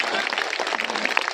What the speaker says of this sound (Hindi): तालियां कम है सीतामढ़ी के लोगों